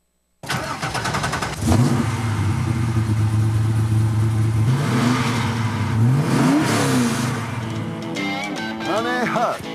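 Car engine revving up as the accelerator is pressed, rising and falling in pitch through several surges with a sharp climb near the end, loud and close, with speech at times over it.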